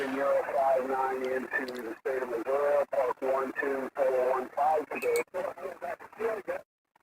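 Amateur radio receiver tuned to a weak station during a park-hunting session, with a distorted, band-limited voice coming through a noisy hiss that chops in and out under steady static.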